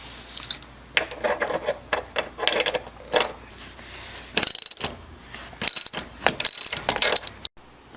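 A ratchet removes 14 mm bolts inside a 2003 Acura MDX, clicking in uneven bursts of turns with metallic clanks and short pauses, close and fairly loud with no talking.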